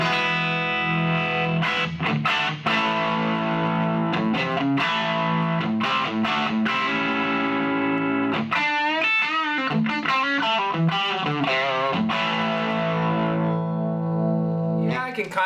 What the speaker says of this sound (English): This is the Vox. I got the gain cranked up.